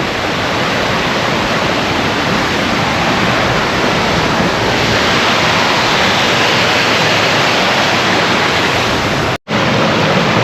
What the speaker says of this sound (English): Just following cascade after cascade down this lovely woodland trail here.